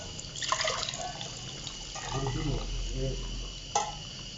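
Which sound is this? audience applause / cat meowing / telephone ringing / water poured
water poured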